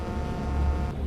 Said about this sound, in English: That's the horn.